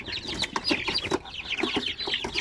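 A flock of 45-day-old Basilan and Zamboanga native chicks cheep and cluck continuously in a dense, overlapping chorus of short, high calls, fairly close and steady throughout.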